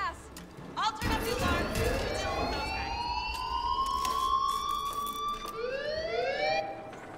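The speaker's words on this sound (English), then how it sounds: "I'll turn up the" Alarm siren in the video game Dead Island, a wailing tone that sweeps upward and repeats, rising loudly after a brief start and holding steady, with talk over it.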